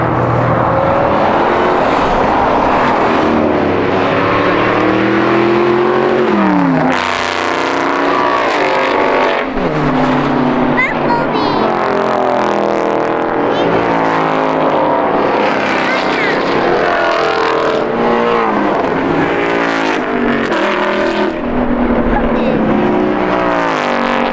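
Car engines rev and roar close by as cars pass on a race track, with people talking over the loud, continuous motor noise.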